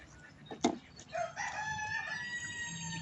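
Native chickens on a farm, a rooster crowing close by with hens clucking around it, a drawn-out call rising over a layer of farmyard clucks.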